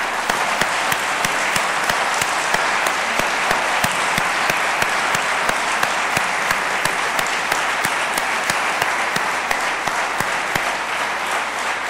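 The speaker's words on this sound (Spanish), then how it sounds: "Le damos un fuerte aplauso al Señor." Congregation at a church service applauding, a dense, steady wash of many hands clapping that carries on loudly and evenly throughout, with no talk over it.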